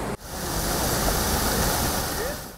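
Waterfall on the Nairobi River, a polluted urban river, roaring as a steady broadband rush of falling water that is close and continuous, with no voices over it.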